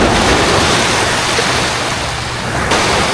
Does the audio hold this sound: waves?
yes